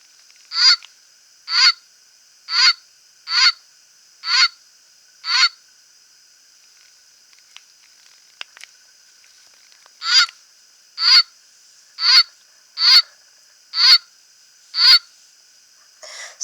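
A toy goose honks in two bursts of six evenly spaced, nasal honks, separated by a quiet pause with a few soft clicks.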